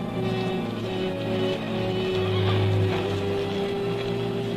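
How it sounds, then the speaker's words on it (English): A horse whinnies, a sustained tonal neigh over a busy background, with a low rumble swelling midway as it draws nearer. "There's a horse coming up."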